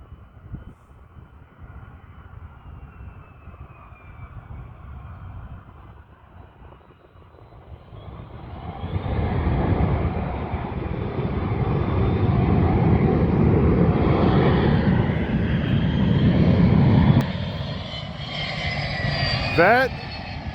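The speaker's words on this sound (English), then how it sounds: "That is a Boeing 727, introduced by Boeing in 1962." A Boeing 727 jet airliner approaches and passes overhead, its engine roar building from a distant rumble into a loud, broad wash that peaks and then fades, with people talking faintly beneath it.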